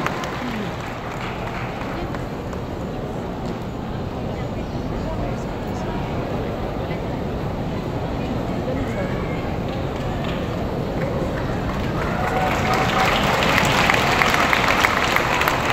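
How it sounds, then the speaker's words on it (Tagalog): Loud, continuous crowd applause and cheering at an outdoor political proclamation rally, a dense roaring wash that swells louder toward the end, with voices and a loudspeaker mixed in. "Isa muling malakas na palakpak para kay Attorney"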